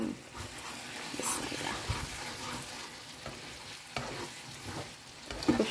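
Chicken being fried and stirred with spinach and spices in a pan, with a steady sizzle broken by scraping stir strokes, and occasional light background noise.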